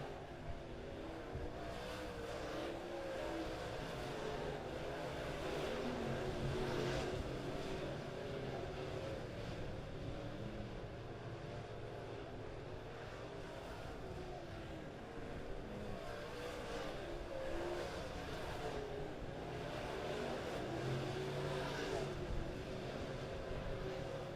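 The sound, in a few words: dirt late model race cars racing at Springfield Raceway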